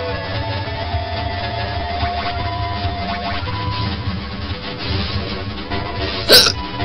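A single sharp hiccup near the end of a steady stretch of background game music and noise, loud and close, standing out briefly over the backdrop.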